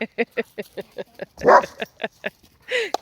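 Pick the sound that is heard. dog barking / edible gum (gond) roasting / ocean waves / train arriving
dog barking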